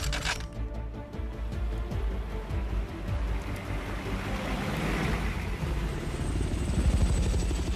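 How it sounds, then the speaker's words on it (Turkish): Helicopter flying overhead during a Turkish police special operations scene, a steady loud rotor and engine roar with a low rhythmic beat that swells slightly toward the end, with wind or surf-like wash underneath. "Amacımız bu helikopterin ilgisini üstünüzde tutmak."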